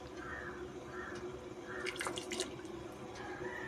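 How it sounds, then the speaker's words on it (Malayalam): Thin liquid drips and trickles as vinegar is poured into a pineapple pickle, faint and close, with a brief cluster of clinking splashes midway and no voices. "അതിൻ്റെ ശേഷം 2 സ്പൂണ് വിനാഗിരി ഒഴിക്കണം."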